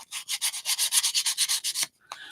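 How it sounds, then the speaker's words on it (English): Light sandpaper rubbing along the edges of a wooden Christmas ornament: about fifteen quick, evenly spaced back-and-forth strokes, close and crisp, then a short pause and one softer scrape. "So light sanding on the edges."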